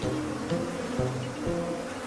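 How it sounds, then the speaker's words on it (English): Aggressive African honeybees swarm around their nest in a tree in Zambia, a dense steady buzzing drone with several insects passing close in loud surges, no voices. "A swarm of angry bees isn't the best lullaby for a tired wild dog."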